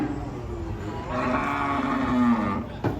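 A raging cow lets out a long, loud, drawn-out moo while being unloaded from a truck, rising over a rumbling outdoor background.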